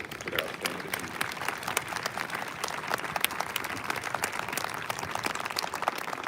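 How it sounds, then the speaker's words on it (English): Crowd applause for award recipients at a Georgia Military College parade ceremony, sharp scattered claps over a broad outdoor wash of clapping, moderately loud and continuous, with faint voices mixed in. "please join us in a round of applause to all our award recipients for their outstanding achievements"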